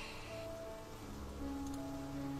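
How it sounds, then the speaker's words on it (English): Steady rain falling in a hidden object horror game set at an abandoned asylum, a soft continuous patter heard alone with faint ambient tones. "I like the water effect. It's really nice. And the rain, too."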